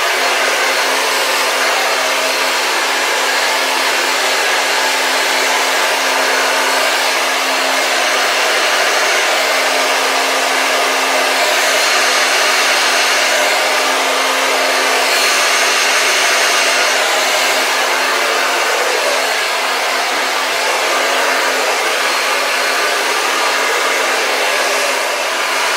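A hair dryer set on medium heat blows steadily while styling hair for a smoothing, volumizing blow-out, a constant loud whoosh running without pause throughout, with no voices.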